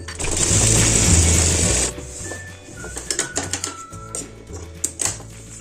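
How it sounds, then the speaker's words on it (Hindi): A sewing machine stitches a ladies shirt in a loud, fast whirring burst for about two seconds, then stops, followed by a few scattered clicks and soft handling sounds. "तो देखो इसको भी मैंने सिल दिया है और इसके भी ऊपर में सिलाई लगा दूंगी।"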